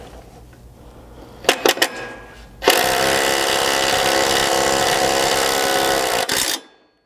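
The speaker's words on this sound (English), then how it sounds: "you're just going to need a 19mm socket and a fairly strong impact to get them started" An impact driver with a 19mm socket drives 1/2 inch self-threading bolts while fitting sliders to a 100 Series Land Cruiser, giving a few short bursts and then a loud, sustained hammering whir that cuts off abruptly.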